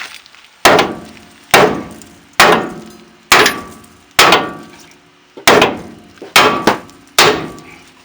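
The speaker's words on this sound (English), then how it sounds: "I'm going to hit this knuckle right here out from this other side." Nine sharp hammer blows on the steering knuckle of a Dodge Ram 1500 during ball joint removal, metallic clangs with ringing decay, spaced irregularly and close by, with no voices.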